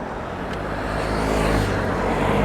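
A Renault car approaches on a wet road, its tyre and engine noise swelling steadily louder as it nears, with no talk over it.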